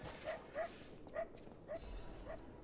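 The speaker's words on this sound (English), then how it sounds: "There's also a dog inside this house." In the video game Lies of P, a dog barks inside a house: five short, yelping barks at fairly even intervals, faint and somewhat distant, over a quiet background.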